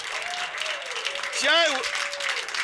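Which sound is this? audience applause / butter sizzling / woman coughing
audience applause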